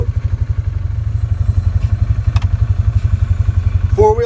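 A Ranger utility vehicle engine chugs in 4-wheel drive, a close, loud, rapid rhythmic thumping pulse that runs steadily throughout, with a brief clatter near the end.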